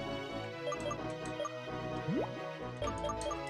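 A potion item used in the Pokemon Black 2 video game: a short liquid-like rising chirp with a drip quality over the game's background music.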